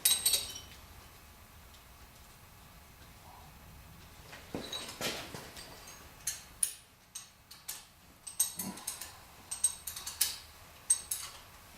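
Ratcheting and metallic clicking while oil pump bolts are loosened on a V8 engine in a Miata build, faint irregular ticks and clinks that grow busier toward the end, with soft background rustle.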